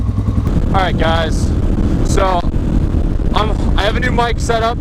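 A TBR7 motorcycle engine with a performance head idles in a steady low rumble as it warms up, while someone talks over it close to the mic.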